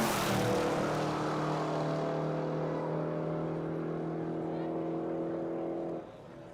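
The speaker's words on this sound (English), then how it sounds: "Range Rover coming through" A six-cylinder Range Rover race car roars past at high speed on a top-end run, loud engine drone at its nearest at the start, then fading steadily into the distance before cutting off.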